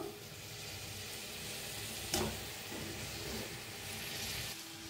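Potatoes drop into a pan of sizzling masala for potato usal, a sudden burst breaking a steady, close frying hiss that carries on evenly afterward.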